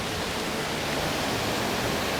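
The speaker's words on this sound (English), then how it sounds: "the fountains and streams. So there's also fountains right here that go and splash each other" Fountains at Disney's Aulani resort in Hawaii splash and rush in a steady, dense wash of water noise. The sound is close and continuous throughout, with no voices.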